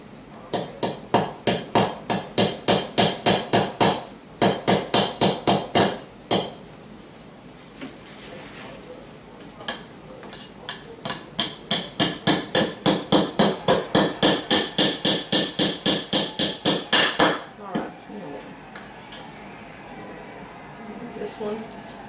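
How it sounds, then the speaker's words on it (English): A small watchmaker's hammer taps wooden beehive frames together in fast, even runs of sharp knocks, several bursts of a dozen or more strikes separated by short pauses, close and loud. "Little watchmaker's hammer that's just perfect for getting in there without"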